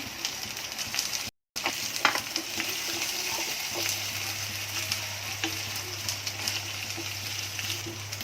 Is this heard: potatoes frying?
yes